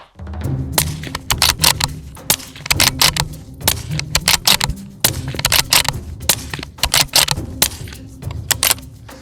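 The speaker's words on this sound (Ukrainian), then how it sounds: "зараз я в максимальному темпі спробую зробити серію" A rapid series of sharp, muffled shots from a Mauser M18 bolt-action rifle with an A-Tec suppressor and subsonic rounds, each followed by a metallic bolt clack, fired one after another at a brisk steady pace.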